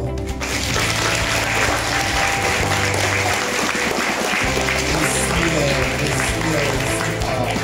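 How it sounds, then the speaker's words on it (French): A school audience of students applauds warmly, loud dense clapping sustained throughout without a break. "Et on peut l'applaudir encore."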